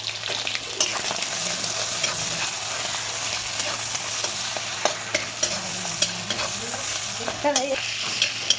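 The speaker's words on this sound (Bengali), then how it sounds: "চিংড়ি মাছ একটু লাল লাল করে ভেজে নেবো, নাহলে কাঁচা গন্ধ থাকবে" Prawns fry in a pan with kalonji and green chillies for a prawn and spinach curry, making a continuous close sizzle broken by occasional stirring scrapes and small pops, and no one talks.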